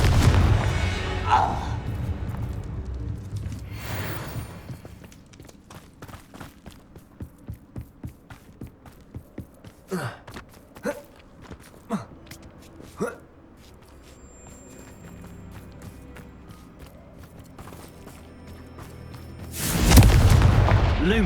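Confringo blasting spells explode in Hogwarts Legacy as a string of sharp thuds and bursts, with heavier booms near the start and end and a quick run of smaller impacts in the middle.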